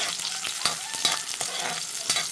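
Fresh vegetables with chili being stirred in a hot pan, a close, steady sizzle broken by repeated scraping stir strokes at an uneven rhythm, with no talk.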